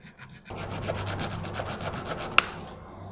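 A small hand saw blade cutting back and forth with rapid rasping strokes, steady and close, followed by a sharp click as the cut ends. The cutting happens during work on fuel injectors.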